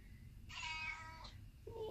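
A cat gives one clear, fairly close meow, followed moments later by the start of a second, shorter call.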